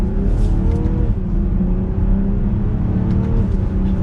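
A 2022 BMW X5 sDrive40i in Sport Plus mode with manual shifting pulls hard, its engine note droning and rising steadily and loudly from inside the cabin throughout, with no talking.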